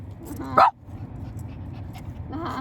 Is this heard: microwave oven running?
no